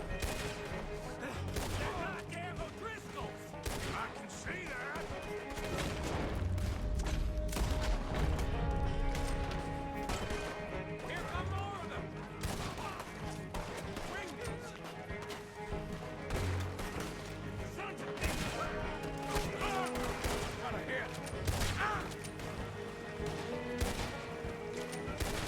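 Rifle gunfire in Red Dead Redemption 2, dense bursts of shots, crashes and explosive impacts over game music and ambience throughout, with some speech-like voices mixed in.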